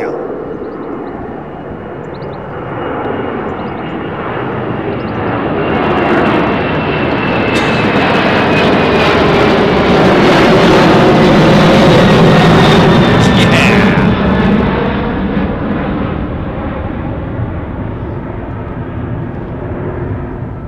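An airliner departs Heathrow runway 09R, its jet roar building from a distance, peaking loud and near overhead, then fading slowly with shifting whine tones as it climbs away.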